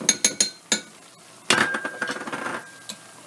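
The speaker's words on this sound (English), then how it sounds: "Give it a little stir." Cornstarch being stirred into about a quarter cup of liquid for a chicken stir fry sauce, heard as a handful of sharp clinks of a utensil against a glass or dish, then a quicker run of light scraping taps, close and alone.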